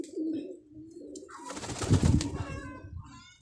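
Pigeons coo in a low, throaty series of calls, close and fairly clear, with a brief burst of rustling or wing flapping in the middle.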